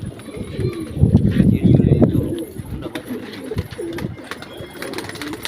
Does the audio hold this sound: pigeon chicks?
yes